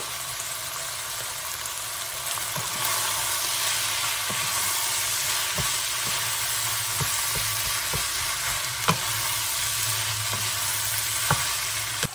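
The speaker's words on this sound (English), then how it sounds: "Our beef is browned, our tomato paste is incorporated, and our spices are in there" Ground beef with tomato paste, oregano, basil and salt sizzles steadily in a pan, a loud continuous fry with occasional clicks and scrapes of stirring, and no talking.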